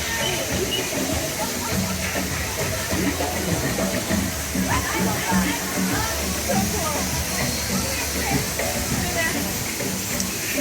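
Broad, steady rush of falling water at a theme park waterfall, a continuous dense wash filling the scene from start to finish, with crowd voices and talk mixed in underneath.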